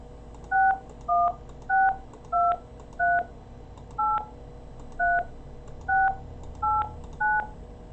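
Telephone keypad touch-tones key in a phone number on a call center phone system: about a dozen evenly paced dual-tone beeps, each brief and clear, stepping through different pitches over quiet line hiss with no voices.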